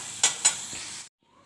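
Chakli fry in hot oil, a bright hissing sizzle with two sharp bursts of bubbling before it cuts off abruptly into silence.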